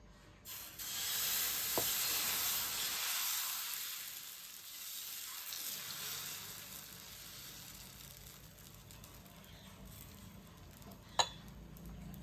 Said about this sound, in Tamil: ஸ்வீட் கார்ன் தோசை இப்போ ஊற்றிக்கலாங்க